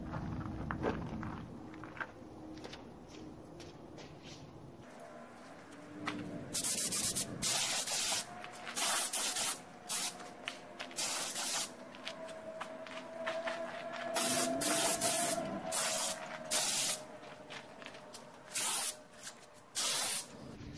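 A cup spray gun lays a sealer coat on wood for an antique distressed finish, with loud bursts of spray hiss starting and stopping in repeated passes after an initial stretch of softer rubbing and handling noise.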